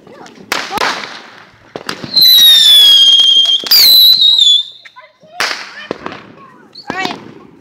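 Ball rocket fireworks are lit and launched close by, with sharp pops and a long shrill whistling screech that rises and falls, followed by more cracks and bursts.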